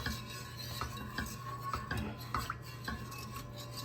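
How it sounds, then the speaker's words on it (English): A whisk working through a pot pie base in a pot, rhythmic metallic clinks and scrapes repeating roughly twice a second, quiet and close, over a steady low hum with no talk. "Just gonna add it in slowly as we keep stirring and whisking"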